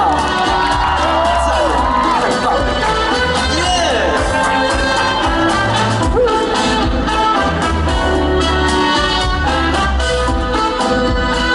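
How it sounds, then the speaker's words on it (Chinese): A large crowd at a live concert of a night-market singing final at Kaohsiung's Dream Mall cheers and screams loudly over music, a dense, continuous roar throughout. "给自己一个掌声跟尖叫声"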